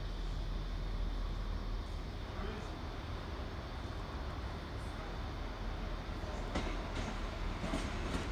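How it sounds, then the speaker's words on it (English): A track inspection vehicle rumbles steadily past a station platform at moderate distance, a low continuous drone with a few faint clicks of wheels on track. "What's the track inspection vehicle passing platform number 2?"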